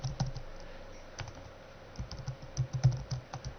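Rapid keystrokes clatter on a computer keyboard while a user ID is entered, a quick irregular run of light clicks, close and clear, with no talking.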